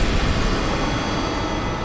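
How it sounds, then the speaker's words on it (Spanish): A helicopter's engine and rotor give a steady, dense roar that fills the whole clip. It is loud and continuous, with no voices. "Ah, el helicóptero, eso es normal."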